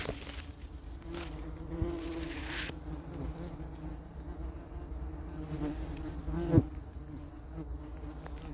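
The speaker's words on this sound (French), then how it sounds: "Donc on va dire que c'est des grosses guêpes." Large wasps buzzing around a nest nearby in a continuous low drone, with a few louder passes as individual insects fly close.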